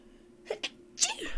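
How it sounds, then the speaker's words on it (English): A sharp, close sneeze preceded by a couple of quick inhaled gasps, with no talking around it. "Yes, that was a real sneeze."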